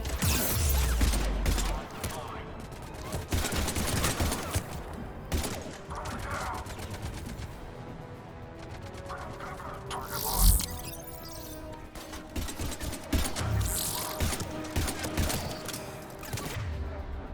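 Pistol fire in the video game Mass Effect 3 during a Cerberus combat mission, repeated rapid shots over a steady mechanical hum and throbbing background, with one louder impact midway.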